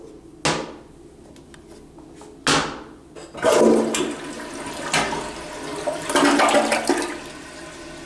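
Kohler low-flow toilet in a hotel suite bathroom flushing, the rush of water rising and trailing off after a few sharp clunks and knocks, heard close in a small room.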